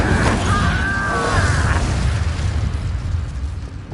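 An Incendio fire spell bursts in the Hogwarts Legacy video game: a loud, close whoosh with a brief ringing magical shimmer, then a rumbling roar that slowly fades.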